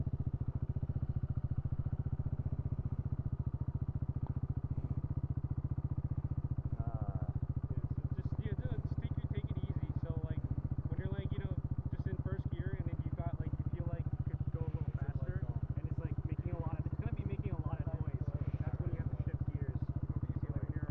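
A Kawasaki Z125 Pro motorcycle engine hums in a steady, close drone throughout, with people talking over it in the second half.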